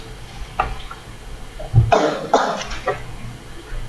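Several rough coughs with some throat clearing, fairly close and loud, in short bursts against a quiet room background.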